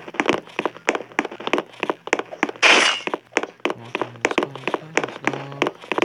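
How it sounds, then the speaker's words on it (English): A single sharp, bright gunshot bursts out once in Roblox Murder Mystery 2, landing amid a steady run of quick hollow thunks and taps that continue before and after it. "Oh, that's a gun."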